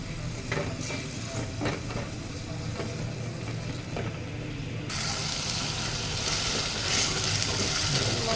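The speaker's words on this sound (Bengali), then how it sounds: "এখন একটা প্যানে তেল দিয়ে দিলাম সব মশলা আস্তে আস্তে করে দিয়ে দিব" Spices frying in hot oil in a pan for a young pigeon curry: a steady sizzle with scattered stirring clicks, then a louder, fuller frying hiss as more spices go into the oil.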